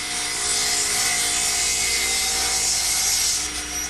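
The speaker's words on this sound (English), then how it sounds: "And I'll do that at the radial arm." A radial arm saw cuts through a wooden block in a woodworking shop, a loud continuous whining rasp for about four seconds that eases off slightly at the end, with no talk.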